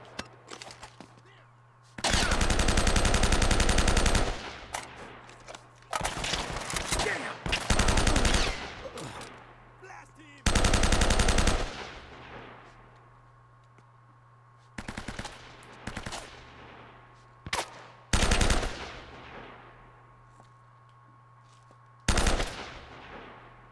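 Bursts of gunfire in the Uncharted 1 video game, several long sustained automatic volleys and shorter clusters of shots, loud and close, separated by brief pauses over a steady low hum.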